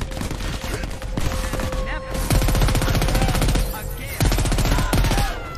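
Rapid bursts of gunfire hit targets in Crackdown 3, loud and sustained with sharp repeated shots rattling over background game music and effects.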